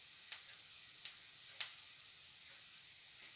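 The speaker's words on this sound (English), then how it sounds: "So we just want to let that simmer for a few minutes" Jackfruit simmering in a pan over low heat gives a faint, steady sizzling hiss, with three light clicks from a utensil early on and no voices.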